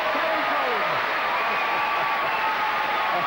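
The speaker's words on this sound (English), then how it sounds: "Give her a round of applause" Studio audience applause on a British TV hidden-camera show, a steady, loud wall of clapping and crowd noise with a few whoops and cheers mixed in.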